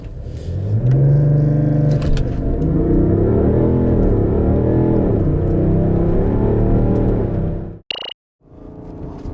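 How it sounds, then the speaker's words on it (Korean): A BMW X7 M50d accelerates hard in a timed acceleration test: a loud, close engine roar climbs steadily for about eight seconds, then cuts off abruptly, followed by a brief quieter rumble. "BMW X7 M50D 과연 얼마나 빠른 가속 성능을 갖고 있는지 한번 볼까요?"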